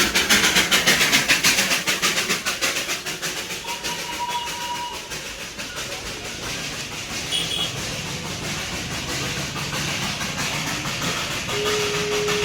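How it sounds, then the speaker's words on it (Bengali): A Darjeeling steam engine toy train hisses loudly and continuously with a rapid, rhythmic chuffing pulse, strongest at the start, then settling into a steady nearby rush of steam. "এই যেটা হচ্ছে স্টিম ইঞ্জিন টয় ট্রেন বন্ধুরা"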